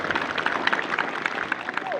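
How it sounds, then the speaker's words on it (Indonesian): An audience of students claps together at a Saturday school flag ceremony during orientation at SMK Negeri 1 Pagaran, a busy, even patter of many hands heard from a moderate distance. "Tepuk tangan yang meriah buat mereka."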